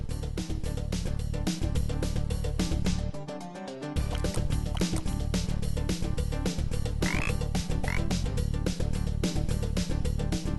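Frog croaks from the point-and-click adventure game The Adventures of Willy Beamish, during a frog jumping scene, mixed into busy, steady game music that carries on throughout with a brief dip near the middle.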